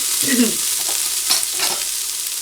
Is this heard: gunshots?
no